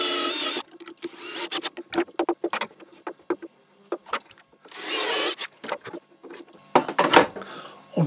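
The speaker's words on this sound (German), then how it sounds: "Hier bohren wir direkt eine Schraube rein." Screw being driven into wood while building a clamp for a small router table, with short bursts of power driver whirring alternating with scattered knocks and handling clatter up close.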